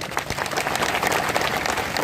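Audience at a political speech in honour of Tantya Bhil breaks into loud, sustained applause, a dense steady wash of clapping throughout with no speech over it.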